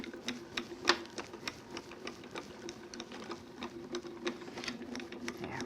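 A die-cutting and embossing machine runs a craft card through embossing plates with a steady mechanical whir, broken by sharp clicking ticks at an even pace, close and alone.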